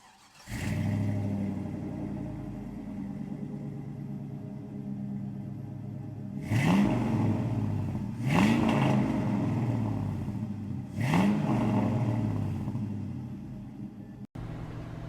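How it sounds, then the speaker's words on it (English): A restomod 1983 Chevrolet K5 Blazer rumbles along a road in Georgia, its low exhaust note swelling in three distinct acceleration pulls between a steady cruising drone. "The exhaust is really nice on this truck because it's got a good note to it"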